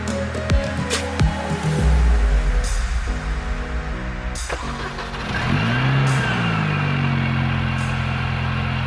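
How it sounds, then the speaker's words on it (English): An R53 Mini Cooper S engine cranks and catches, revs briefly, then settles into a steady, close, loud idle running on alone without talk. "We'll start the car to make sure that there's no leaks."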